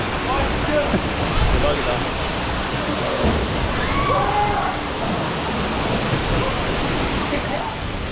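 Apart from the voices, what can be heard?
waterfall near Kilimanjaro, Tanzania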